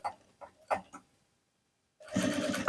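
A sewing machine stitching a thick cover for a monk's alms bowl strap, starting abruptly after a short pause and running as a close, steady whirring hum. A few brief soft sounds come before it.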